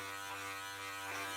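A BILTRTE groin and body hair trimmer buzzing steadily at close range while shaving body hair, a constant electric hum with no talking.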